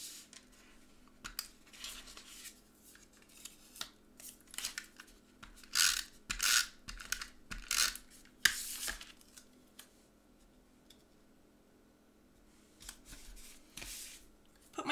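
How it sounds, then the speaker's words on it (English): A tape runner laying adhesive onto a card for a painted harvest gift tag, heard as short dry rasping strokes in scattered bursts, quiet and close in a still room. "Get my tape runner out."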